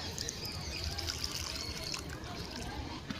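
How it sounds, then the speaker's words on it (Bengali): Water poured from a mug into a potted rose plant, a steady close trickle and splash soaking into soil, continuous and fairly soft. "এবার আমি জল দিয়ে দেবো, ভর্তি করে জল দিতে হবে।"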